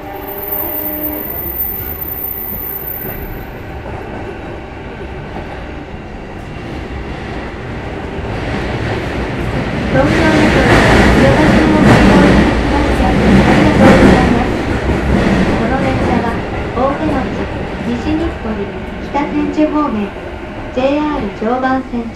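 Onboard running noise of a JR E233 series 2000 commuter train between Yoyogi-Uehara and Toride, a loud, continuous rumble that swells in the middle with rail clatter, and a voice speaking toward the end.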